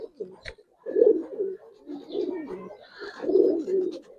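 An Indian pigeon coos in soft, throaty rolling phrases close by, several repeated bursts after being released, with faint higher chirps of other birds and a brief tap early on.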